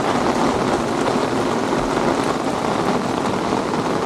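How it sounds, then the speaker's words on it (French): Heavy rain pours steadily in Bali during the rainy season, a dense, loud, continuous hiss of drops hitting surfaces with no pauses and no voices. "c'est la saison des pluies à Bali, hein, donc ça mouille très fort"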